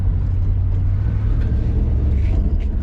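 A 1984 Chevy square body pickup truck drives home from the dump, its engine giving a steady low rumble with road noise, close and constant, with no talk.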